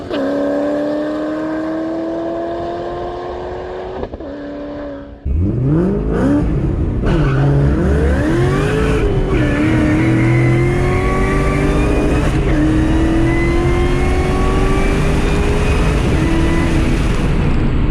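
A Shelby GT500 revs and accelerates hard on a no-prep drag strip, tires spinning to 6500 RPM, pitch climbing through gear changes, loud and close with a steady roar throughout.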